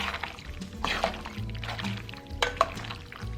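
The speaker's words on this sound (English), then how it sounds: "Pour it over your meat." A seasoning marinade of onion powder and adobo poured over beef in a bowl, soft wet splashes and squishy drips in short bursts, close and alone.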